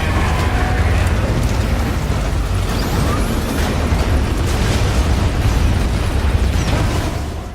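Tank destroyed in Metal Gear Solid V, a loud, rumbling blast that rolls on as a dense roar of crackling debris and fire for several seconds before tapering at the end.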